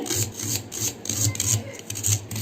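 A knife finely chops curry leaves on a board for Tamil-style medhu bonda batter, giving quick, even soft taps with a light scraping hiss, close and steady.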